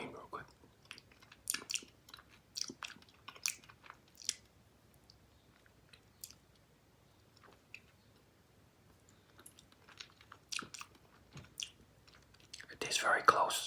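Quiet, close chewing of Cow Tales chewy candy with cream filling, soft sticky bites and mouth clicks scattered irregularly, with a louder crinkly burst near the end.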